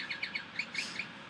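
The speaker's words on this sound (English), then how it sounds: "Carolina Wren." A Carolina wren sings a quick run of bright, repeated chirping notes in a steady rhythm, fairly close and clear over a soft background hiss, with no voices.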